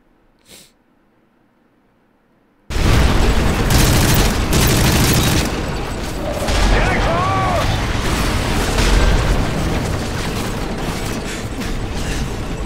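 Gunfire in Call of Duty: Modern Warfare 3, erupting suddenly after a quiet start into dense, continuous battle noise with rapid shots, explosions and rumbling chaos that carries on loud to the end.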